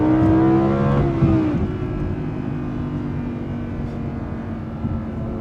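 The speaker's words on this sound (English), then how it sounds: "Those downshifts, you hear the cracks." An Audi R8 V10 Plus engine drops through gears while driving, its loud rising drone giving way to quick downshift blips and cracks before settling into a steadier, quieter hum.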